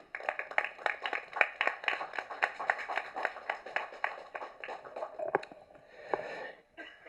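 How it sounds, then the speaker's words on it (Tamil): Enthusiastic applause from an audience at a film press meet welcoming a speaker to the stage, a dense run of claps lasting several seconds before thinning out, with no talk. "ஸோ ஒரு பெரிய கைத்தட்டலோட லெட் மீ வெல்கம்் எம்எஸ் பாஸ்கர் அவர்கள்."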